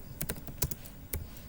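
Router commands are typed on a computer keyboard: a quiet, close string of crisp key clicks at an uneven rhythm, heard alone.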